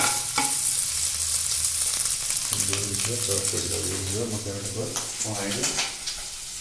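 Pork pieces stir-fried for a dry fry sizzle steadily in a pan while a spatula scrapes and stirs, with a person talking over the cooking for much of the stretch.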